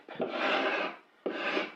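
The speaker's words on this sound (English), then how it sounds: "I'm going to use carbide scraper." Two strokes of a carbide scraper rasping across paint, a long scrape then a shorter one after a brief pause, close and fairly loud.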